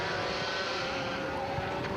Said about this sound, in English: Just gives the engine a little bit of fuel as he goes down the straight.